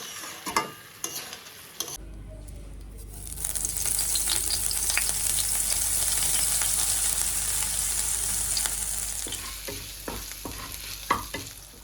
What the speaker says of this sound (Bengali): এই পাশে বসিয়েছি করলা ভাজা